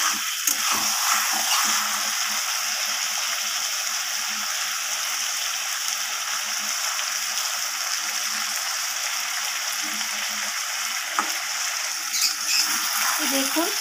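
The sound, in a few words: fish being stir-fried with a spatula in a pan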